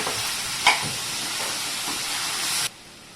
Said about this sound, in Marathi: अजून थोडे काजू घालून घेते परतून घेऊया